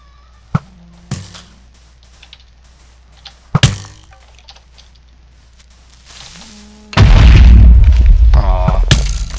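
A mob explodes in the Minecraft video game, with a few sharp booms early on followed by a loud, sustained roaring blast near the end.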